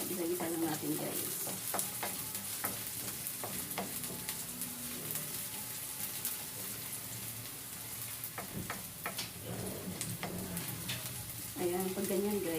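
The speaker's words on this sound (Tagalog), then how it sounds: "Yan ang ating sibuyas. Yan. Gisa-gisa lang natin guys." Garlic and onion sauté in hot oil for chicken putopao, a steady close sizzle with scattered clinks of a spoon stirring the pan while a voice speaks over it now and then.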